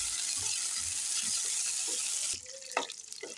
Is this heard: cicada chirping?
no